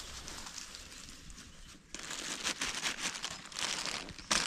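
Plastic bags crinkle and rustle up close, softer at first then louder and busier, with continuous crackly handling noise and no talking, while fishing for crucian carp beside reeds.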